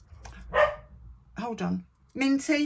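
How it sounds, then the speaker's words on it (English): A pet dog barks in short bursts in an indoor home setting, with someone talking over and between the barks. "that's my dog barking"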